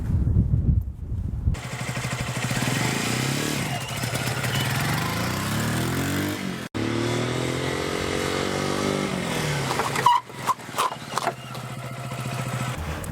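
A 125 cc motorcycle ridden at low speed during a beginner riding lesson, its engine droning and rising and falling in pitch with throttle and clutch changes, loud and close, with a brief dip midway and choppy revving near the end.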